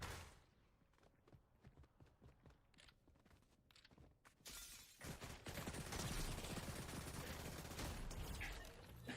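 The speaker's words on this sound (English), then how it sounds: "Did all that shooting for nothing." Video game trailer gunfire shown during a PlayStation State of Play Japan showcase: sharp, separate shots crack in quick bursts at first, then give way to a dense, loud barrage of continuous firing that fills the rest.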